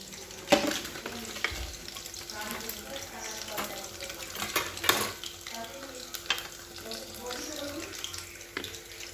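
Chicken pakoras fry in hot oil with a steady crackling sizzle, broken by sharper clicks and bubbling bursts as the pieces are moved around the pan.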